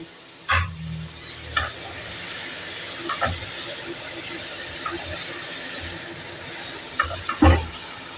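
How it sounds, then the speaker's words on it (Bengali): Papaya pieces frying in a pan over low heat, a soft steady sizzle broken by a few sharp knocks and scrapes of a spatula stirring. "সমস্ত পেঁপেগুলোকে ছেড়ে দিয়ে এখন একটুখানি ঢাকনা চাপা দিয়ে নাড়াচাড়া করব"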